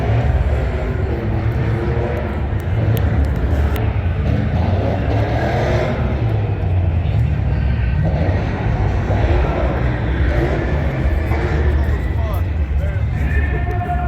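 Drift cars and burnouts at the SEMA 2025 show: a loud, continuous wall of engine roar and tire noise fills the whole stretch close by, with crowd murmur underneath.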